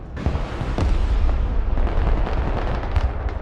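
Guided JDAM bombs slam into and destroy buildings in the Broken Arrow war game, a dense run of heavy booming blasts and rumbling debris that roars loud and continuous for several seconds.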